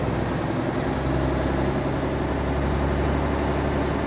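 A heavy truck engine in American Truck Simulator lugs up a hill at low revs in a low gear, giving a steady, droning rumble that holds constant throughout with no talk.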